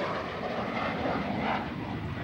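A T-33 jet flies overhead at an air show, a steady, loud broadband engine roar that holds fairly even throughout with no voices.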